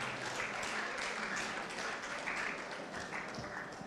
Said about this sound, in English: Please let us give her a huge round of applause.